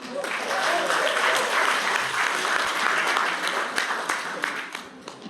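A church congregation at an Easter service claps for a minister, with loud, dense applause filling the room throughout and a few distinct claps and faint voices standing out as it slowly eases near the end.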